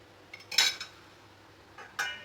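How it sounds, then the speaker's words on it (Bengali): A metal lid goes onto a cooking pot of chicken with two sharp metallic clanks a moment apart, close and clear in a quiet kitchen. "ঢাকনা দিয়ে এবার ঢেকে দিলাম।"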